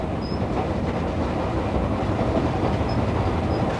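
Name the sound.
crowded train running on rails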